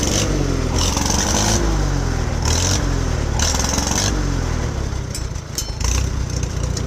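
An old tractor engine runs after a rainstorm, chugging steadily with a rough, uneven idle and a few rising and falling revs, loud and close, with occasional bursts of higher hiss over it and no talking.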